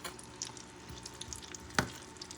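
Scallops cook in a pan with a soft, quiet sizzle and frying crackle, punctuated by a few small pops and one sharper clack near the end.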